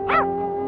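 A dog gives a single short yelping bark, close and clear, followed by a lingering tonal background.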